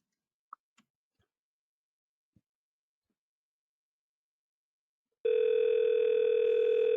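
Telephone dial tone coming in after a few faint clicks of number entry, a steady continuous tone that starts abruptly and holds to the end, clear and alone.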